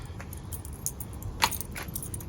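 Car keys jangle briefly several times against low background rumble, with one sharper clink near the middle, close and fairly quiet.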